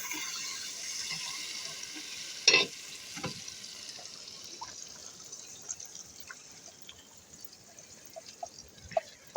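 Vegetables frying and being stirred in a pan in a home kitchen, a steady soft sizzle with occasional sharp spoon scrapes and clinks, one louder knock early on, close and with no talking.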